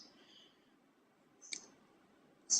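A computer mouse clicks twice, sharp and close, about a second apart against a quiet room hum.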